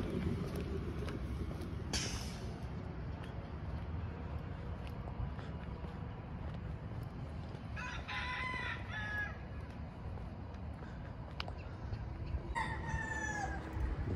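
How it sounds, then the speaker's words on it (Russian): A rooster crows twice at a distance on a cold morning over steady low rumbling background noise, with a few faint clucks in between. "100 лет не слышал я крика петухов"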